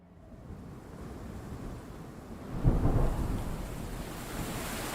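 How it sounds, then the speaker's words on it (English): Rain and a low thunder rumble from the medieval role-playing game Kingdom Come: Deliverance II: steady broadband rainfall throughout, with a louder rolling thunderclap swelling near the middle and fading slowly. "It's raining."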